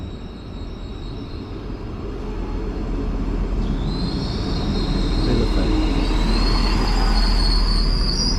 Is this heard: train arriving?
yes